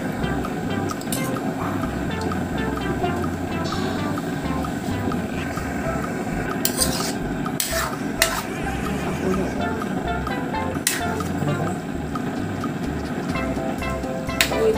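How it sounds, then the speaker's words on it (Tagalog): Pork dinuguan in coconut milk simmering in a pot, a steady low bubbling and burbling with occasional soft pops and clinks, continuous and fairly quiet with no talking. "Kaya lang muna natin kumulo."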